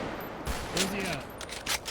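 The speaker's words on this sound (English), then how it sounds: "Shots fired. Shots fired. Shots fired." Rapid gunfire in a police roleplay video game, heard as a burst of sharp cracks in quick succession, a short pause, then more shots, with a faint tonal sound between the volleys.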